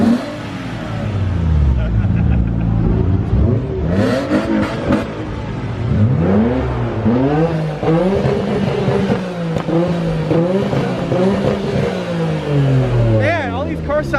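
A sleeper car's engine revs through rising and falling sweeps, loud and close, while someone talks over it and traffic noise carries in the background.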